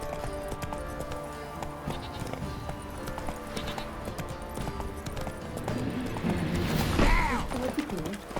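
Roach the horse galloping in The Witcher 3: rapid, rhythmic hoofbeats clattering steadily throughout, with game sounds behind them, growing louder and busier toward the end.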